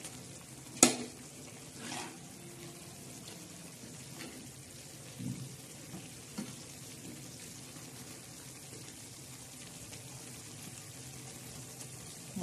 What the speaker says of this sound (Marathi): हे बघा वालाच्या शेंगा अशा मस्तपैकी शिजत आहे. आता यांना परत आपण छानसं असं हलवून घेणार आहोत.